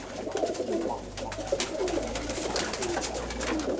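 Pigeons coo softly in low, rolling murmurs, several overlapping calls repeating throughout against a steady background hum.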